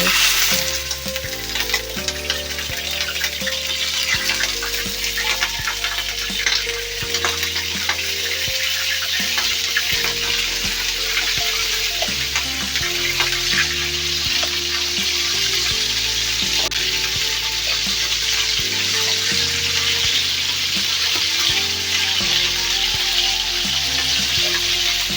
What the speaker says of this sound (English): Now the oil is hot enough. I'll start frying the chicken.